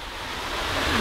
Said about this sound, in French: c'était une petite cascade tranquille pour un petit vendredi